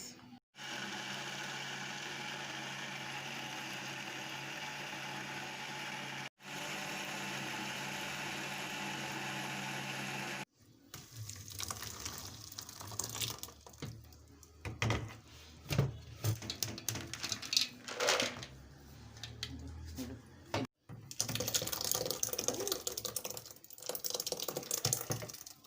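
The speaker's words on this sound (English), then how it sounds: "let's blend it" A blender whirs through soaked grains for pap: a steady motor hum for about ten seconds, then a rougher, choppier grinding stretch with bursts and brief pauses, close and loud.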